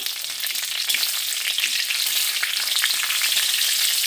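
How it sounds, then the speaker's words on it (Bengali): Panch phoron, two dried chillies and two bay leaves fry in hot mustard oil with a loud, continuous crackling sizzle and light stirring, close up and without voices. "সর্ষের তেল দিয়ে দেব পাঁচ ফোড়ন দুটো শুকনো লঙ্কা দুটো তেজপাতা ফোড়নটাকে একটু নেড়ে দেব"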